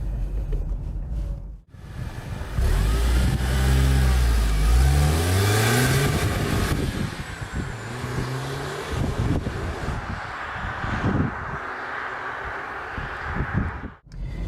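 A Mercedes W203 C200 Kompressor drives along a rough, potholed road, its engine revving up through the gears with rising tone, then settling into a steady cruise with road and wind noise, heard from inside the car.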